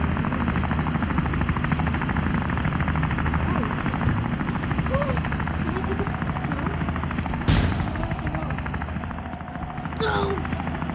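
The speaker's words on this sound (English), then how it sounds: "Helicopters?" A helicopter in the video game Wobbly Life drones with a steady rotor chop, loud and continuous throughout, with a sharp click near the middle and brief game sounds scattered over it.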